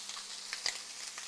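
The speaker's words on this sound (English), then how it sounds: "so that's definitely hot and the bacon's frying" Bacon sizzles steadily in a hot pan, a faint continuous frying hiss with a few small pops and crackles, alone and without talk.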